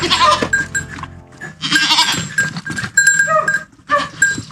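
Goats bleat loudly and repeatedly up close, several overlapping calls in quick succession with brief pauses between them.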